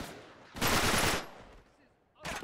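A gun fires in the video game Uncharted 3: a loud, rapid burst lasting about half a second, then quieter ambience before a second burst starts near the end.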